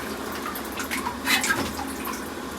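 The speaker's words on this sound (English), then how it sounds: "you can get these results with a sandblaster, but a wet blaster is way better." Wet blaster vapor blasting rusty Volkswagen Karmann Ghia car parts, a steady hissing spray of water and abrasive with a brief louder burst partway through, close and continuous.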